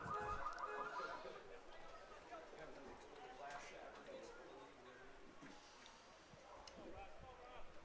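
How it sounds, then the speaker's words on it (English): A car alarm warbles in the distance during a high school baseball game, faint beneath steady commentary and crowd murmur, its repeating tones most noticeable at the start. "Car alarm again. Right on cue."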